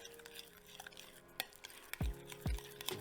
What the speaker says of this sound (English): And now we're gonna mix this together.